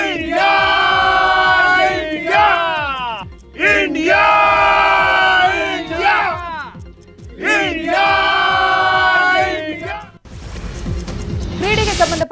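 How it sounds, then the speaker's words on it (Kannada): Friends celebrating Team India's T20 World Cup win over South Africa cheer and chant "Bharat" in loud, repeated bursts, the rhythmic group shouts rising and falling, ending in a rough, noisy commotion. "ಭಾರತ ಭಾರತ ಎಂದು ಜೈಕಾರ ಕೂಗಿದ್ದಾರೆ"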